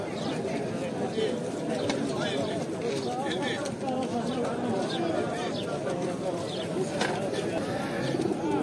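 Pigeons coo steadily amid the constant crowd chatter of the Sabunchu bird market, where people talk nearby throughout and soft calls blend into the busy din.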